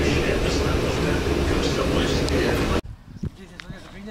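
A tram ride: loud, steady rumble and rattle of a moving tramcar fills the first three seconds, then cuts abruptly to a quieter interior with scattered knocks and bumps.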